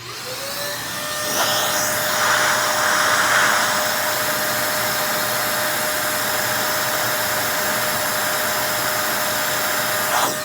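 An XPOWER canister blower runs on its high setting, a loud steady whooshing roar with a faint whine that swells slightly after the first second and holds constant throughout.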